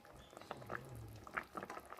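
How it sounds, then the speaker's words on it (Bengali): A potato curry simmers in a pot at home, giving faint, soft bubbling and popping with a few small liquid blips. The sound is quiet and close, with no voices. "দেখো ঝোলটা ফুটছে টক টক করে"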